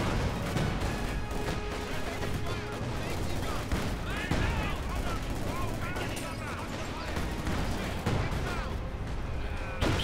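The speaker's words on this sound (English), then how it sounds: "Machine guns firing." Machine guns and other weapons firing in Company of Heroes 2 battle, dense continuous rattling bursts and impacts throughout, with a commentator talking over it.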